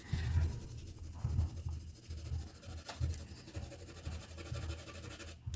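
A colored pencil burnishes paper under heavy pressure, making close, scratchy strokes in a repeated back-and-forth rhythm with brief pauses between passes.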